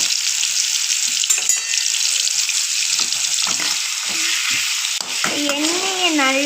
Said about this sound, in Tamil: சிக்கன் நல்லா பொரிஞ்சு கிறிஸ்பியாக வரணும்